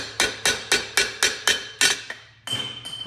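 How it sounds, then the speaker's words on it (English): Sharp metallic hammer taps on a steel bearing, about eight evenly spaced strikes, close and loud, followed by a brief scrape and clatter. "you can just take your hammer"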